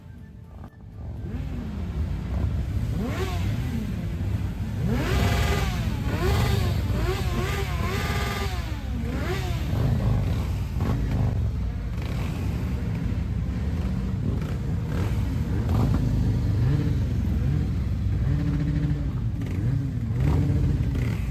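Several motorcycle engines rumble and rev continuously at a motorcycle season-opening gathering at Kalwaria Pacławska, Poland, throttles rising and falling in repeated surges, loud and close throughout.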